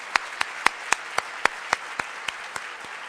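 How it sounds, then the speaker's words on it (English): A sponsors' thank-you at the YWCA We Believe 2011 event brings a thin round of clapping: about a dozen sharp, evenly spaced claps, crisp and isolated with quiet gaps between them. "Please help me give them a big round of applause."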